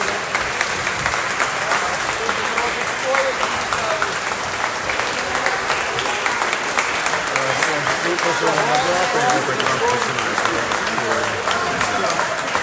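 Sustained applause fills a parliament hall as the Ukrainian government faces dismissal, dense steady clapping from a large chamber running throughout, with talk mixed underneath.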